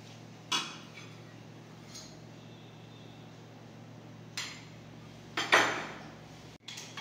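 Mango roti chutney being mixed in a vessel: a handful of sharp clinks and scrapes of utensil against the pot, scattered irregularly over a quiet background with no talking.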